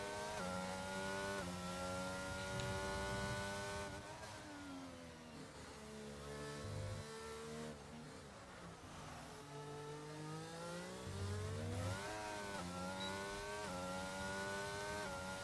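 Several F2 race cars from a racing video game roar around a lap at the French round, their engines whining and shifting pitch continuously as they pass, loud and sustained with no talking.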